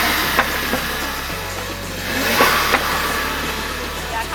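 A tuned car's anti-lag system pops and crackles over a loud engine rumble with shifting revs at a Sydney cars and coffee meet. Sharp bangs stand out every second or so.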